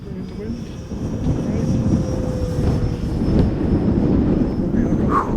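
A 3D-printed electric ducted fan model jet flies with a steady whooshing whine under gusty wind noise while people talk nearby.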